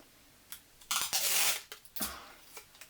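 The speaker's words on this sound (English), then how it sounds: "it's a horrible noise, isn't it, sellotape?" Close-up sellotape dispenser pulling tape: a sharp tick, then a long loud rasping strip of tape unrolling, followed by a few short clicks and a second scratchy pull fading into light clatter.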